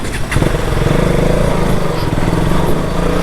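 A motorcycle rides along a road on a monsoon trip through Odisha, its engine loud, close and droning steadily with slight revving throughout.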